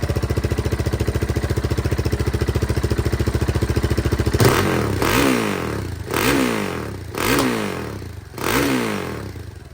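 A motorcycle fitted with a cheap aftermarket knockoff exhaust idles with a rapid, even putter outdoors, then is revved in several rising-and-falling bursts, loud and close.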